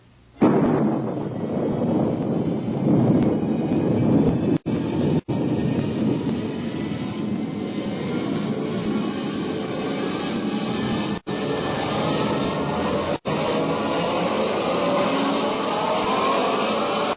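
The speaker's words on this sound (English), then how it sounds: "countdown for blast off" Rocket blast-off roar as a radio drama sound effect: a sustained, loud, rumbling broadband roar that swells in at once and holds steady for many seconds, broken by a few brief dropouts, with no voices over it.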